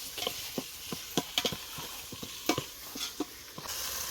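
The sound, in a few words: tomatoes sautéing in a pan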